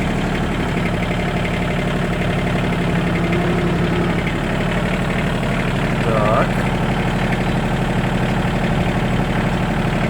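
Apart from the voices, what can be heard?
mini tractor engine idling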